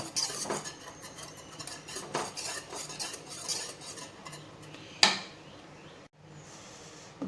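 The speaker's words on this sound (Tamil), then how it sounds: "சிம்மில் வச்சுட்டு அதுக்கப்புறம் கிண்டி விடணும்" Fenugreek kali being stirred in a pot over a low flame: soft, intermittent spoon scraping and light pot contact, with one sharper metallic clink before a quieter stretch.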